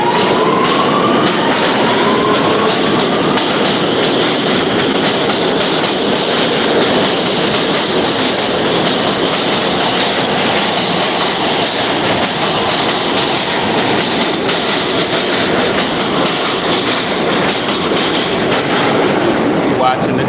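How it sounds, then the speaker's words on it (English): New York City subway trains rumble past on a rainy day with a steady, loud clickety-clack and roar of rail cars that runs throughout, close by, with occasional faint wheel squeal. "Watching the trains go by."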